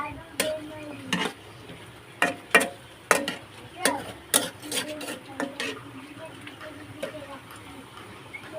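Potatoes and boiled soybeans are sautéed in a pan, with repeated spatula scrapes and taps against the metal over a soft sizzle at an uneven rhythm.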